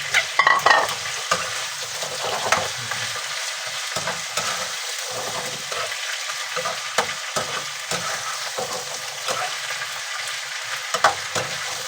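Potatoes being stirred in a hot pan while frying for chicken curry, with a steady close sizzle and scraping stirs throughout, loudest at the start.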